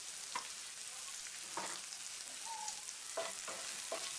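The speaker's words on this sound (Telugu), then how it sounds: "ఇప్పుడు ఒకసారి బాగా కలుపుకున్న తర్వాత పావు టేబుల్ స్పూన్ పసుపు వేసుకుని" Potatoes frying with turmeric for a Telugu-style aloo fry are stirred in a pan, giving a steady close sizzle with several distinct scraping strokes of the spoon spaced through it.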